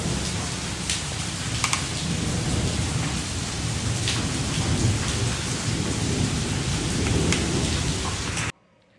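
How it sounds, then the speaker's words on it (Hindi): Very heavy rain pours steadily in Delhi with rumbles of thunder, a dense, loud, close hiss throughout that cuts off abruptly near the end. "ये हो रही है बहुत तेज वाली बारिश।"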